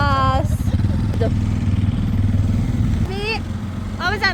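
A Yamaha MT15 motorcycle engine on a ride out to Kakani rumbles steadily and close up throughout, with a brief rev near the end and passing voices talking over it.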